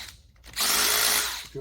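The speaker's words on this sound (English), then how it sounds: "Drill that side out a little bit." A power drill whirs at high speed for about a second, grinding into metal while drilling out a battery cable end, with quieter clicks and handling noise before and after.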